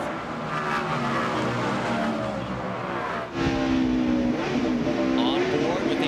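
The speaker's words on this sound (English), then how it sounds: "listen to that truck as they go over that curve, just pounding that curve" NASCAR race truck engine roaring loud and steady on board at Portland International Raceway, pitch rising and falling through a curve, with a commentator talking over it.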